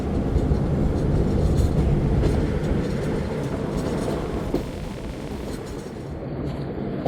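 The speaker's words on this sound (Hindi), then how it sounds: "ZCU30 के साथ 8 डाउन तेज़ गाम में इंटर हो रही है चीचा वतनी।" Tezgam express train hauled by a ZCU30 locomotive arriving at Chichawatni station, a steady loud rolling rumble of wheels and carriages throughout with no voices.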